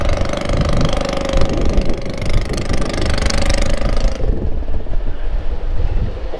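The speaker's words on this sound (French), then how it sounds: "On reconnaît rapidement les moteurs à combustion quand même." Combustion engine of a Shell Eco-marathon car at the 2016 event, a loud continuous buzzing drone with a steady rough pulse and wind noise that runs throughout and turns more muffled toward the end.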